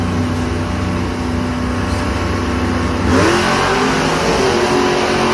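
Monster trucks Big Kahuna and Son of a Digger racing at a Monster Jam show in Denver, a loud continuous engine roar that swells into heavier revving partway through, heard over crowd din.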